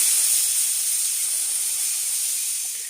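Steam hisses steadily from a pressure cooker of potatoes on a medium gas flame, a loud continuous rush with a thin high whistle-like tone running through it, slowly easing toward the end.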